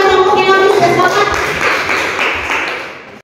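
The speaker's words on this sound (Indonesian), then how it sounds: "Kita beri tepuk tangan pada kelompok yang habis" Classroom applause for a group of students: a short burst of many hands clapping together, loud and close, then tapering off over about three seconds, with some voices mixed in.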